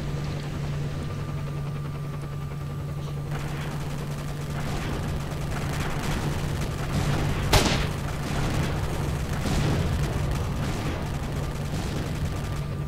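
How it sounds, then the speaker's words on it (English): Gunfire from hostile zombies in S.T.A.L.K.E.R.: Shadow of Chernobyl, a few scattered shots and one sharp crack ringing out over a constant droning game ambience and low hum, with no voices. "Zombies! And they're shooting at me."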